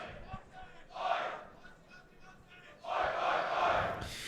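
A large esports arena crowd at a Counter-Strike quarter-final cheers and roars in two surging waves, loud and distant-sounding.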